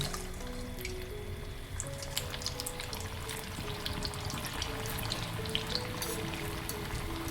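Food sizzling in hot oil in a pan over a medium flame, a faint, steady crackle and bubbling throughout with scattered pops.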